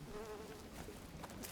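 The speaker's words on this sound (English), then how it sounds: "Freaking fly sound effects way over here for no good reason." A fly buzzes in a video game, a steady insect drone that holds for about a second and a half at moderate level, with no one talking.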